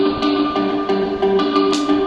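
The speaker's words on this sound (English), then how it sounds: "A very compressed guitar along with, I think, a couple of synthesizers." A heavily compressed guitar riff from the second intro, layered with synthesizers and delay, plays loud and dense in short rhythmic bursts without any voice.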